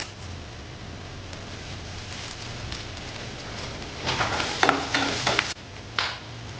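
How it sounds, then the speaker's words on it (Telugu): A pan of tempering with asafoetida crackles with a low sizzle, then bursts into louder, sharp spitting and popping for a few seconds as curry leaves go in, before settling back down. "ఇప్పుడు ఇందులో కొంచెం కరివేపాకు వేసుకుందాం"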